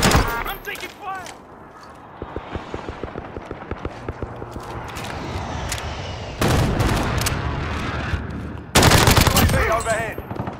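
Gunfire in the video game Warzone: rapid automatic bursts and scattered single shots, some close and loud, others more distant, with a person talking over the shooting.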